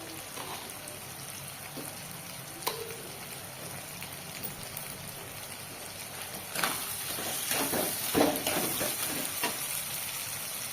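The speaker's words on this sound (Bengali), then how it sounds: "এটা আমি ভালো করে ভাজবো।" Food fries in a pan after the eggplant has been taken out and salt has gone in, giving a steady soft sizzle like light rain that grows a little louder with a few stirring clicks.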